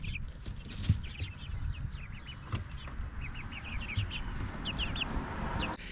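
Chickens of many ages, from young chicks to fully feathered birds kept in separate pens, cluck and chirp in repeated short bursts, moderately close, over a steady outdoor background rumble.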